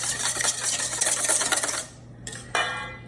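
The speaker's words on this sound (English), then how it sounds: "I'm just gonna use the same whisk that I used to whisk that up together and whisk these until they lighten in color" A whisk beats eggs in a bowl, a quick close clatter of metal tines for about two seconds before stopping, followed by a brief scrape.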